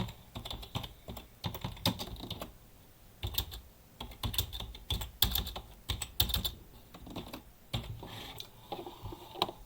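Rapid keystrokes on a computer keyboard while a command is entered in a Processing JavaScript mode editor, irregular bursts of close, crisp clicks with brief pauses between them, no talking.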